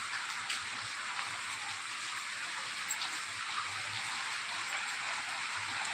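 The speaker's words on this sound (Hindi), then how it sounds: "और बारिश भी हो रहा है" Rain falls steadily in a quiet setting, a faint, even hiss with scattered drip ticks and no voices.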